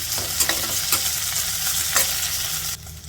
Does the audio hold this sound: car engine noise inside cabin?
no